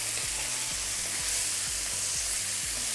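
Onion frying in oil in a hot pan for yakhni pulao, a steady bright sizzle running the whole time with a soft rhythmic scraping or stirring pulse underneath, close and alone.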